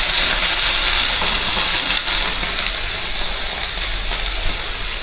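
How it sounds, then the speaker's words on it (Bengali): Water poured into a hot pan after frying lentil fritters for dahi vada gives a loud, continuous steam hiss that holds steady throughout with little variation. "এইবার আমি এতে অল্প করে জল দিয়ে দিলাম।"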